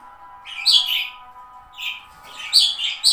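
A breeding pair of budgerigars calls at their nest box, a few bright, close chirps and warbles in short bursts over a faint steady hum.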